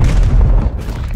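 A stun grenade goes off in Call of Duty Black Ops Cold War with a single loud, low, rumbling boom that decays quickly.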